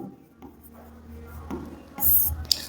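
Chalk or marker writing on a board during a trigonometry lecture on the Pythagorean theorem: scratchy strokes that grow louder and denser toward the end, with a sharp tap near the finish and no voice.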